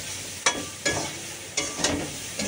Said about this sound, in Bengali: পেঁয়াজটা দিয়েছি, এর সাথেই ভাজা ভাজা হয়ে যাবে।